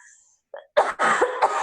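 A single sneeze from a person in an indoor conversation, a short inhale followed by a loud burst and trailing breathy sounds, close and clear.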